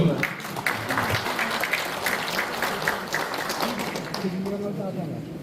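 Guests at a commemorative ceremony for the founding of the Korean Provisional Government clap steadily in a large hall, a moderate wave of applause with a voice speaking over it near the end.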